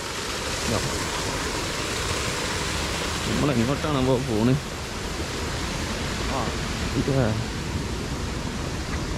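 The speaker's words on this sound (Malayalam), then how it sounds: "വെള്ളച്ചാട്ടോ വാട്ടർഫാൾസ്" Steady broadband rushing from a waterfall in Indonesia fills the background while people talk over it.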